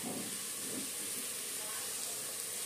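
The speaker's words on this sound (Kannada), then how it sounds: "ಆ ರೀತಿ ಚೆನ್ನಾಗಿ ಫ್ರೈ ಮಾಡ್ಕೋಬೇಕು ನೋಡಿ" Masala frying in a pan for a home-cooked non-veg Sunday meal gives a soft, steady hiss, faint and continuous, with no distinct pops.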